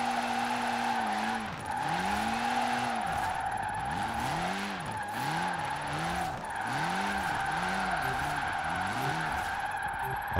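In the Forza Horizon 4 racing game, a drifting car holds long tire skids with a steady engine drone underneath, the squeal repeatedly rising and falling in pitch as the slide is extended.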